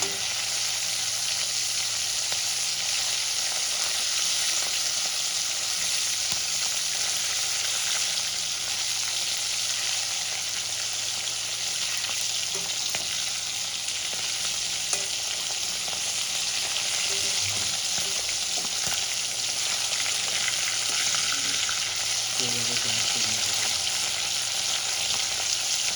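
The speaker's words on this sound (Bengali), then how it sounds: "মাছগুলো আমার লাল করে ভাজা হয়ে গেছে।" Fish pieces fry in oil in a pan until reddened on both sides, a dense, steady, close sizzle holding for nearly half a minute with faint occasional bubbling and no talk.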